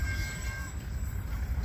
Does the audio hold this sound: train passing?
yes